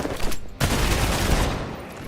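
Gunfire in the game Marvel's Midnight Suns opens with a sharp shot, then a dense, loud volley of blasts that rolls on for over a second before tapering off, with no one talking.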